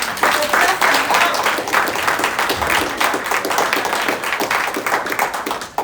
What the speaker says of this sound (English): let's give a double clap it up